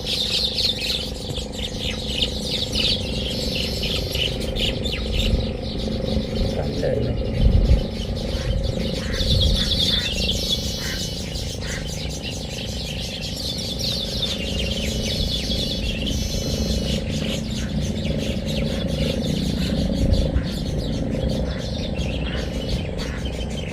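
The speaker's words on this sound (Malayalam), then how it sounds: "കിളികളുടെ രസമുണ്ട്" Birds chirp and tweet steadily over a constant outdoor background hum, with faint scattered calls throughout.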